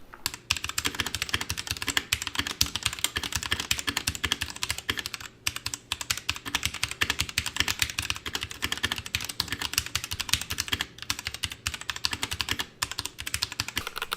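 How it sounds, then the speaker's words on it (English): Fast, continuous typing on a Royal Kludge RK84 mechanical keyboard with brown switches, crisp clacky keystrokes in a steady rapid rhythm, close and alone. "I'm using an RGB variant with brown switches."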